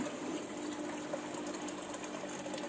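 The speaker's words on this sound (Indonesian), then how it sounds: "Jadi air yang jatuh kembali itu membentuk gelembung-gelembung." Water falls back into a hydroponic tank for growing pak choi, forming bubbles, heard as a steady, soft trickling and bubbling wash with faint pump-like hum, continuous and unbroken.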